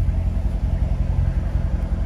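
A 2019 Corvette Z51 convertible with dry-sump engine and automatic transmission idles close by, a steady deep low rumble pulsing evenly with no talk over it.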